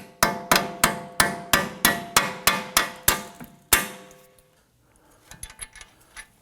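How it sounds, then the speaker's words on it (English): A hammer taps the lower strut bolt through the knuckle on a 2003-2014 Volvo XC90 front strut: about ten sharp, evenly spaced metallic strikes close up, ending with one heavier blow, then quiet handling noises. "And get that lower bolt in. We'll tap that through."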